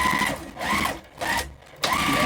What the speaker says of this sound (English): I'm going to sew over to my mark.